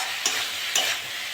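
Sada shak greens fry steadily in a pan with a continuous close sizzle, broken by two brief scraping stir strokes.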